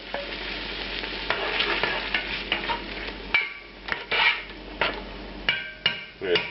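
Pureed tomatoes hit lamb fat in a hot pan with a busy crackling sizzle, then the stirring brings a series of sharp scraping and knocking hits against the pan, up close.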